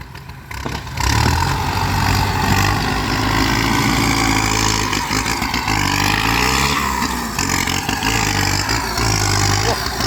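A turbocharged MU 57 dump truck engine revs under the throttle, a loud, close diesel roar that rises and falls in repeated surges over a rumbling idle.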